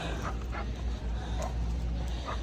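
A Labrador in training outdoors gives a few short, soft yips and whimpers under steady low background rumble, with no clear loud barks.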